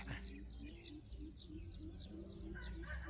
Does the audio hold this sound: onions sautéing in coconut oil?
no